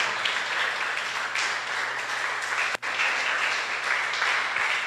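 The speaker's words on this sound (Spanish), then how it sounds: "Dele un aplauso al Señor." A church congregation applauds together in a long, steady wash of clapping that fills the space, with a brief dip partway through before the clapping swells again.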